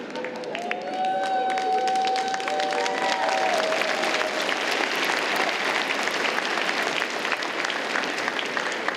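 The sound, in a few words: applause at a graduation ceremony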